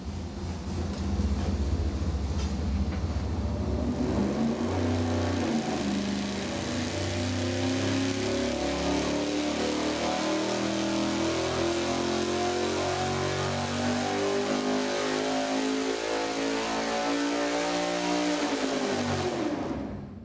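A V8 engine with a regular-weight flywheel and standard harmonic balancer runs a dyno acceleration pull at 300 RPM per second, its loud, steady roar climbing continuously in pitch for about twenty seconds before cutting off abruptly.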